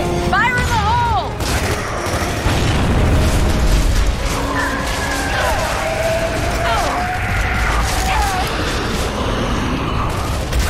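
Grenade blast amid combat in Gears of War 3, a heavy boom within a busy, loud mix of gunfire, mechanical clatter and shouting voices, with rising whistling tones layered over the fight.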